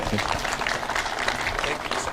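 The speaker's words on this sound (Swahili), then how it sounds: "Tumpigie makofi." A crowd applauds a speaker at an outdoor peace caravan gathering in Namanga, a dense, continuous clatter of many hands clapping, close and steady, with voices mixed in beneath.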